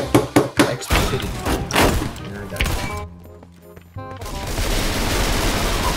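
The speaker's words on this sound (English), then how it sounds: "That gun is so loud." A loud video game gun fires a quick volley of sharp, thumping shots at the start, followed by heavy rumbling impacts and a brief quieter lull before a dense noisy roar returns.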